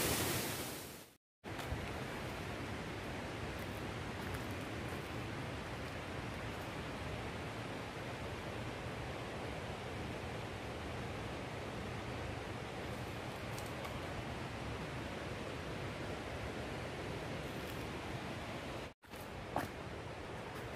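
A small forest waterfall along a trekking trail produces a continuous, broad hiss of falling water, steady and fairly loud, broken by two brief dropouts and carrying on unchanged to the end.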